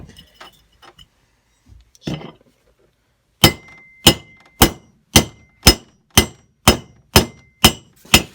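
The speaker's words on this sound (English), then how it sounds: "I'm just gonna hammer it in" A hammer drives a bearing into a go-kart wheel with ten evenly spaced, loud metallic strikes close by, each ringing briefly, after a few quieter taps and knocks.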